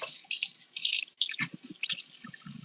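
Water runs and splashes in a sink while straws are washed, with irregular spattering and dripping bursts nearby and a few soft clinks.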